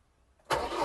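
A Kentavr 504 tractor engine catches abruptly after a brief quiet moment and settles straight into a loud, steady, close-up running roar.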